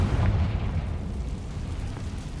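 A Confringo spell blast in Hogwarts Legacy erupts as a deep rumbling explosion, loud at the start and rolling off into a fading low roar.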